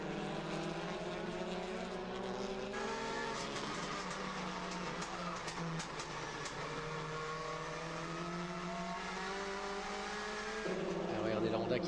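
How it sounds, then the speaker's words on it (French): A touring car engine at the 2013 WTCC race in Hungary roars steadily, its pitch rising and falling through gear changes as cars lap the circuit, with a commentator talking over the continuous loud engine noise. "la mélodie du moteur américain"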